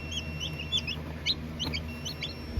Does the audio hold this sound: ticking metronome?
no